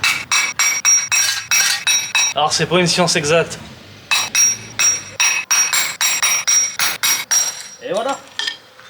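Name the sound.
hammer breaking bricks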